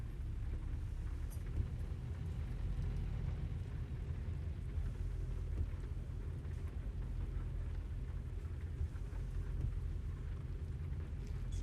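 Steady rain falls during a drive in American Truck Simulator, a continuous low wash of droplets with a deep rumbling bed that holds at an even level throughout, no voices over it.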